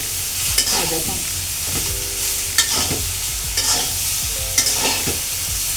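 Soybeans frying in a pan, a steady hissing sizzle punctuated by repeated spatula scrapes and taps every second or so, close and moderately loud, no voices.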